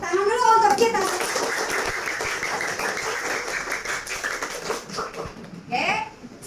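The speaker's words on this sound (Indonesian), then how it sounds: "Ayo, tepuk tangan dulu untuk kita" Sixth-grade children clap together in a classroom, a dense, steady burst of applause with young voices squealing and calling over it near the start and again toward the end.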